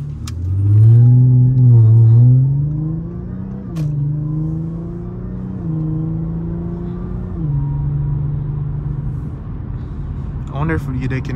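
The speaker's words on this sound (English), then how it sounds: "I wonder if they can hear the supercharger." An Audi A7 3.0 TFSI with a supercharger, APR Stage 1 tune and cold air intake, heard from inside during a drive. The engine rumbles loudly and climbs in pitch, drops back, then settles into a steady drone.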